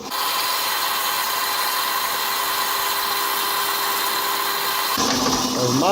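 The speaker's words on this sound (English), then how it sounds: "And now we're drilling." A power drill spotting a hole in a knife blank, running as a steady loud whine for about five seconds before stopping, then some handling sounds close by.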